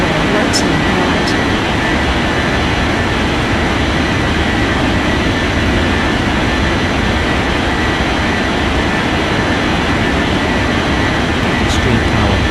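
An airliner in an air traffic control game takes off on runway 12 right, its jet engines roaring loud and steady throughout, with a controller's voice speaking over the rumble.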